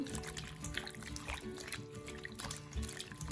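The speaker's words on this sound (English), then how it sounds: "So rinse this a couple times in water" Cut calabash bottle gourd pieces are rinsed in water in a kitchen, with a quiet, close trickling and sloshing that continues steadily.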